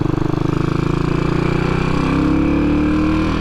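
A 1981 Yamaha SR500 single-cylinder motorcycle, ridden, its engine giving a loud, steady thumping pulse that rises slightly in pitch as it pulls, close and continuous, with no talking.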